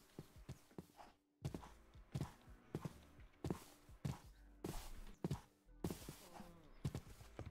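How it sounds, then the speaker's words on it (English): Blocks get broken apart to tear down a house in the RLCraft video game, a rapid run of sharp thuds and cracking hits at uneven intervals, loud and close, with no talk. "I'm destroying this house because this place sucks"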